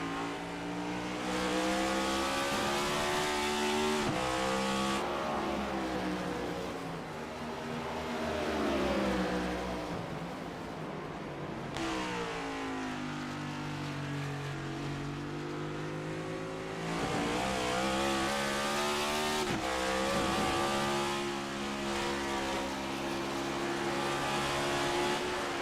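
Next Gen stock race cars lapping Watkins Glen in a racing video game, engines droning and revving loudly with rising and falling pitch through gear shifts and turns, continuous and close throughout.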